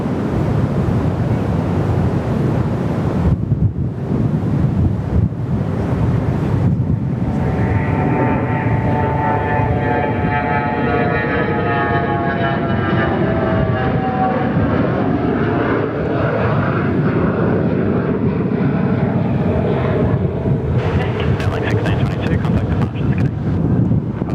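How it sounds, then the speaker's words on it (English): Fokker 100 jet taking off at Perth Airport, a loud sustained engine roar with rising and sweeping tones that swells over many seconds, heavy wind rumble on the microphone and a voice briefly talking over it. "it's nice to hear those beautiful Fokker 100 sounds"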